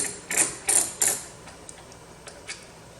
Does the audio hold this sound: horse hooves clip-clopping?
no